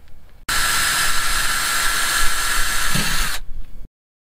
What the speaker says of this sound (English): What I do is I take my drill and I cut corner holes.